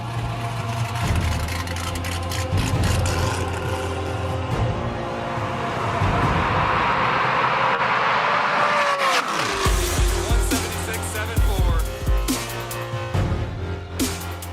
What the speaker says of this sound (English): this truck from a roll can scream